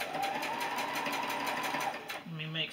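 A sewing machine stitches quilt fabric for a beginner sampler quilt in a steady, fast, close run for about two seconds, then slows and stops while a softer mechanical whir follows.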